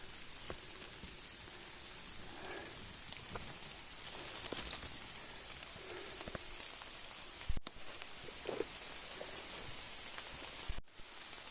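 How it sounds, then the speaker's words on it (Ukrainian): Steady rain falls in a wild Carpathian old-growth forest, a dense continuous patter on leaves and ground with a few sharper nearby drops, building in intensity throughout with no talking. "Дощик так посилюється"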